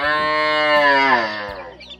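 A water buffalo in a rural village gives one long, loud, close moo that wavers and fades near the end.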